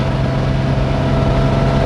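A truck engine revs high in fourth gear, a steady, close droning hum with a firm tonal buzz that holds constant for a brief stretch.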